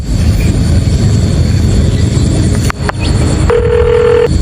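A telephone ring tone sounds briefly near the end as a single steady electronic tone over a loud, continuous rushing background noise.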